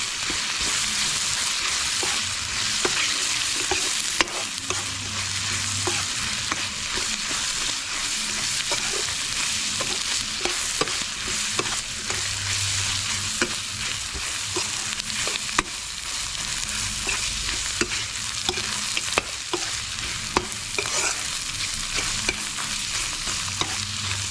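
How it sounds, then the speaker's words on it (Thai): Ingredients stir-fry in a pan with Thai curry paste for northern-style khanom jeen, making a continuous loud sizzle broken by frequent scraping and clattering stirs and low thumps from the stove; no talking. "ใส่ลงไป ผัดไปหอมหอม"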